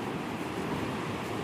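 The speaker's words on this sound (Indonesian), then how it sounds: "Tuh, ombaknya di sini nih ombak maling guys." Surf at Rudal beach on Lombok, a steady broadband wash of breaking waves heard up close, continuous and fairly loud for a brief moment with no voices.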